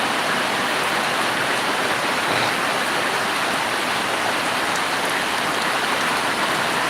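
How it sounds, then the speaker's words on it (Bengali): Steady, heavy rain pours throughout a Kalbaishakhi storm at Muradnagar in Cumilla, Bangladesh, a dense continuous hiss with no pauses and no voices. "আচ্ছা বৃষ্টি হচ্ছে"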